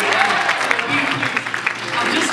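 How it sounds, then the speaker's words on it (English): An audience claps along during a hip-hop education performance at a teaching celebration, a dense steady wash of hands lasting throughout, with a performer's voice partly audible over it. "Everybody can start clapping with me."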